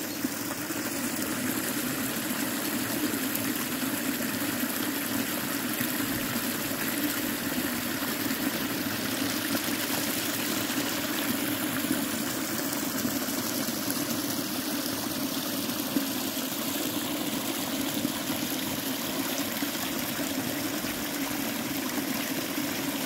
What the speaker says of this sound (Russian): Целый каскад небольших водопадиков.